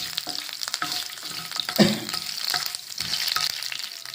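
Dried red chillies crackle and sizzle in hot oil in a pan while cooking a cucumber pulissery, close frying with uneven spits and a sharp burst partway through, plus occasional stirring scrapes.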